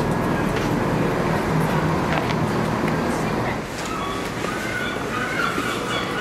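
Train pulling into a station in Penarth, South Wales, a steady loud low rumble of wheels and carriage noise throughout, with a slight drop in level partway as it slows.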